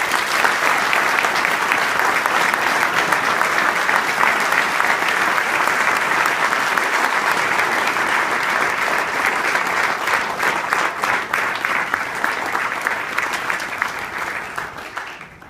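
A sustained burst of audience applause welcomes a speaker at an evening event, dense and loud throughout before tapering off toward the end.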